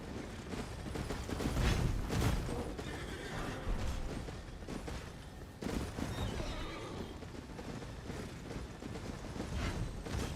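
A horse whinnies in the video game Elden Ring amid rough, clattering game sounds, with a few scattered thuds and mechanical noises.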